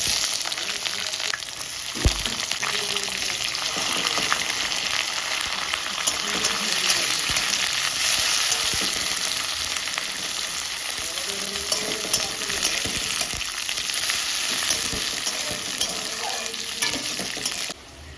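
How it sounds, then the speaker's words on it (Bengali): Panch phoron, bay leaf and onion frying in hot oil, a loud, dense crackling sizzle that runs steadily and up close, with occasional spatula knocks and no speech. "দিচ্ছি 5 ফোড়ন, তেজপাতা, আর দেব পেঁয়াজ।"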